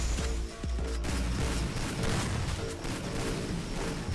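Dense Counter-Strike gunfire crackles in rapid bursts over a busy, noisy mix of game sounds, with several sharp shots and impacts standing out in the first second.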